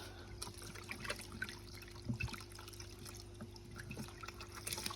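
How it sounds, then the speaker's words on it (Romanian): Water sloshes and trickles steadily as a backyard fish pond is emptied during fish catching, with splashy pours and drips throughout, fairly close and without any voices. "Să golesc mai mult din apă."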